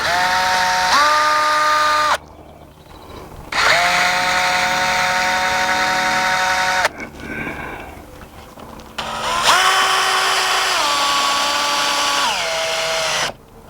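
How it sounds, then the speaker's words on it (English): A power drill drives screws into Trex railing in three long whirring runs, each rising in pitch as the screw seats, with short quiet gaps and faint handling noise between. "we're going to drive our screws in"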